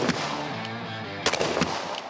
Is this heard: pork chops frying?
no